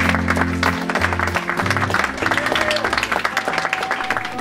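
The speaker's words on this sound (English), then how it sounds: "please give them a huge round of applause" Audience applause at a startup pitch event in a law-firm venue, steady clapping throughout with a loud cheer and tonal music or voices layered over it.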